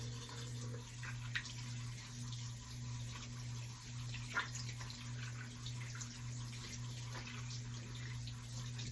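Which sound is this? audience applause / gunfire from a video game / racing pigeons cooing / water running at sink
water running at sink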